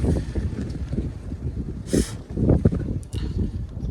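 Wind buffets the microphone outdoors during a hunt, a low rumbling gusty roar with a brief rustling burst midway, steady and close throughout.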